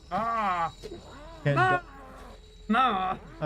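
Enemy growling in the horror video game The Evil Within: three loud, drawn-out harmonic groans with a bellowing, moo-like quality, separated by brief pauses and faint background noise.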